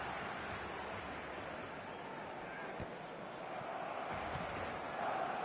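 A stadium crowd in the eFootball video game produces a steady, distant roar and murmur, continuous and fairly faint, with a commentator speaking over it.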